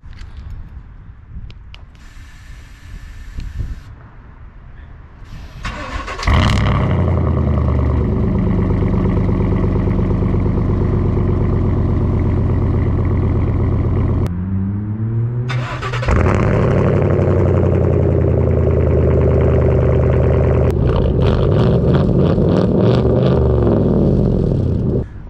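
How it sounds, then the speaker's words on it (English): A 2019 Chevrolet Silverado pickup truck cold-starts with a whirring starter crank, then the engine catches and settles into a loud, steady, deep idle. There is a brief revving surge partway through before it returns to a rumbling idle, close and without speech. "Still packs a punch on our cold starts and startups"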